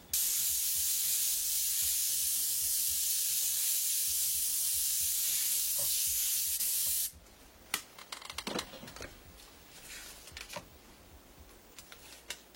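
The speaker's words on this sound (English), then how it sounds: "We'll spray that in with our darker color." Spray paint hisses steadily and loudly from a spray gun applying a darker color over a masked area, a continuous broadband rush that cuts off abruptly partway through, leaving light taps and handling noises.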